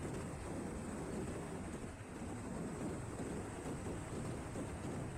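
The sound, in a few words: strong wind blowing while riding a motorcycle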